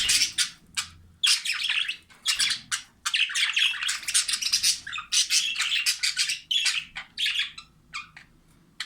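Jumbo budgerigars, a male and a female reunited in their cage with a nest box, chirp and squawk together in dense overlapping bursts, loud and near, with no talking.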